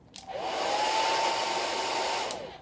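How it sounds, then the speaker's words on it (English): On its high setting, a household blow dryer roars with a loud, steady rushing airflow and a thin rising whine, starting abruptly, holding, then clicking off, close by with no talk. "And this is my blow dryer on high."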